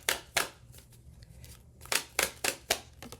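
Tarot cards shuffled and drawn by hand, giving a quiet series of short crisp riffles and snaps in irregular bursts, close and soft.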